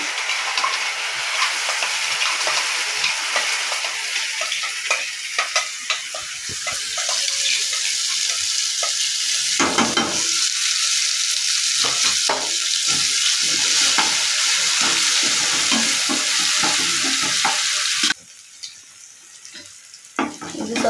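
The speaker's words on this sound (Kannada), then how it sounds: "ಸ್ವಲ್ಪ ಫ್ರೈ ಮಾಡ್ತಿದ್ದೀನಿ ಈಗ" Ground masala for spinach gravy fries in a pan with a continuous close-up sizzle, broken by scraping stirring strokes throughout.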